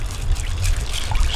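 Water poured into a container for rinsing at a fishing camp, a brief close splashing gush with a low rumble, running steadily for about a second and a half.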